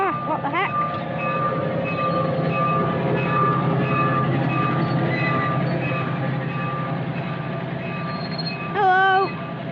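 A miniature railway train at Ruswarp runs steadily and loudly up close, its continuous rumble and rattling wheels underpinning squealing tones, with a short horn-like toot near the end.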